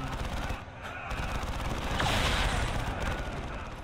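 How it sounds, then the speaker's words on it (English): Bursts of assault cannon fire in a Warhammer video game, rapid sustained rattling volleys layered with explosions in a loud battle scene. "Here come the assault cannons,"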